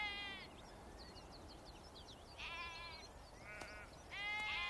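Soay sheep, a primitive breed on St Kilda, bleat in a few clear calls against a steady outdoor wind and faint bird chatter, with the calls spaced apart and moderately close.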